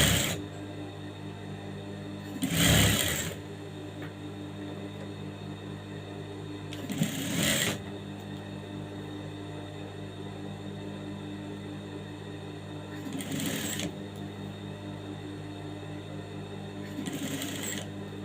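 A sewing machine stitches a twice-folded armhole hem on a garment in short separate bursts, four runs of stitching spaced several seconds apart over a steady low background hum, with no talking.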